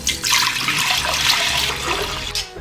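Liquid rice batter for Lao khao lang feun pours steadily into a pot, a continuous watery splashing rush lasting a few seconds, close and moderately loud with no talking.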